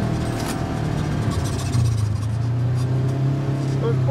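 A 2015 Polaris RZR S 900 side-by-side pulls through a corner, its engine a steady close drone that swells partway through, with a person talking over it.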